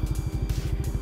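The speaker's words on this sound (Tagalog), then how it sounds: "So eto na, magkakaalaman na sa performance ng motor ni Ma'am Scarlett" A Yamaha NMAX 155 scooter fitted with a power pipe exhaust runs loud and close, giving a rapid, even pulsing engine note with a throaty low rumble.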